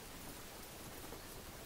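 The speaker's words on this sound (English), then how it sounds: "I'd prefer to get out of this rain" Steady rain falls as ambience in a tabletop roleplaying game, a dense, even hiss of drops with no breaks and no talk over it, fairly soft.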